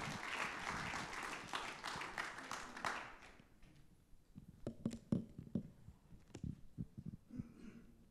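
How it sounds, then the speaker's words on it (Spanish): A church congregation claps in a brief burst of applause that dies away after about three seconds, followed by quiet room sounds and a few faint scattered noises. "Démosle un fuerte aplauso al Señor"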